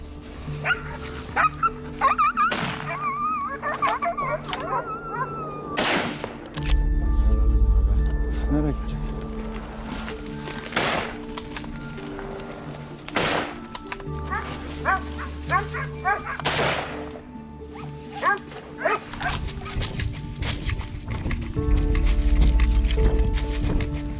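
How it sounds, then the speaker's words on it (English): Hunting dogs bark frantically during a boar hunt outdoors in Georgia, loud repeated barks and yips in irregular bursts, with people talking and a low engine-like rumble underneath. "It kept coming, with the dogs barking like mad."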